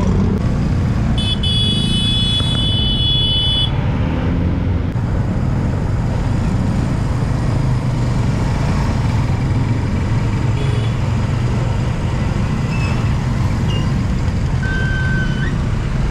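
Busy road traffic in Tungko: a constant rumble of cars, motorcycles and trucks passing close by, with a run of high reversing beeps near the start and occasional faint horn toots.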